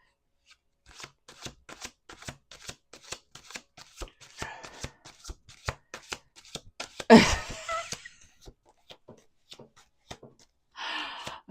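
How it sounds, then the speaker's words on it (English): Tarot cards are shuffled in quick repeated riffles and taps, close and crisp, with a louder flurry midway and a final burst of shuffling at the end. "Two more shuffles."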